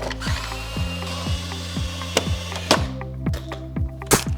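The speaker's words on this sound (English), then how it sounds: "Let's start off by taking off the tires." Tires being removed from a Traxxas Mini Maxx RC car, a regular series of close, crisp mechanical clicks like a ratcheting tool or spinning nut driver, with no talking.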